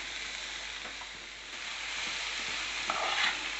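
Carrot and cabbage frying in a pan while being stirred, a continuous soft sizzle with light scraping strokes, close but fairly quiet and with no voices.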